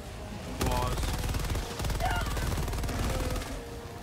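Rapid automatic gunfire in the video game Helldivers 2 rattles in dense bursts with a short pause midway, set against game sound effects and faint voice-like tones.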